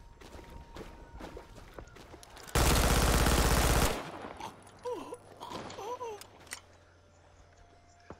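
Automatic weapon fire in the Vietnam-era shooter Rising Storm 2, heard as one loud, dense burst of rapid shots lasting over a second, close and dominant, followed by fainter scattered game sounds and distant chirping.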